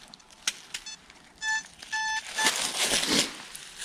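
Metal detector sounding over a coin dug up in a forest, a few short steady electronic tones in quick succession amid soil and rustling handling noises close by.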